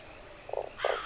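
A frog croaking in the Fran Bow game: two short, throaty croaks in quick succession, the second slightly louder, over a faint background.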